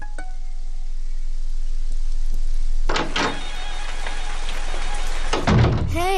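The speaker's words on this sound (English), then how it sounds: "It's raining." Rain falling in an animated children's scene, a steady hiss of drops that runs throughout, broken by a few brief louder thunks and clatters.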